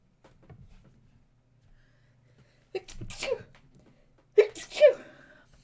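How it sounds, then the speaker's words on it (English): During a live watercolor lesson, an adult lets out a sneeze, sharp and close, preceded by a quick inhale, with soft sniffs and faint room sounds around it in an otherwise quiet setting. "Little sneeze there."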